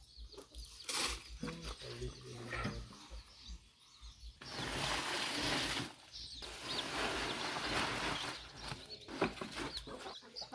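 Chickens being fed grain or scraps cluck near and far in an outdoor rural yard, mixed with brief wing flapping and rustling, with a few stretches of broadband noise.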